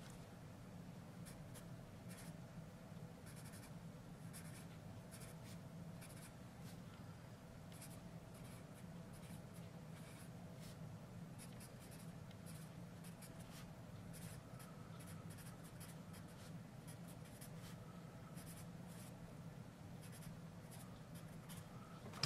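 A Tombow 2558 B graphite pencil writes on paper, giving a faint, close scratching that continues steadily with short strokes and pauses in a quiet room.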